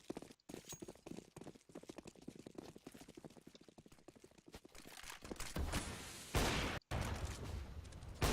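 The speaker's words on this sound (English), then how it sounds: "Shots rattled off, Surreal looking for a bit of luck." Gunfire crackles in a Counter-Strike: Global Offensive match, with rapid bursts of rattling shots and sharp single cracks that grow louder toward the end.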